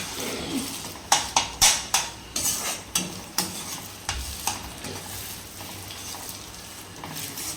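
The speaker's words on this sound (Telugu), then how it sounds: "ఇలా మొత్తం కలుపుకోవాలి" A spatula stirs a green chilli egg fry in a pan: a run of rhythmic scraping strokes over a sizzling hiss, close and fairly loud, then settling into a gentler steady sizzle.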